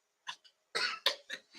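Several sharp coughs in a quick, uneven cluster inside a church, close and fairly loud, with a brief throat-clearing sound among them.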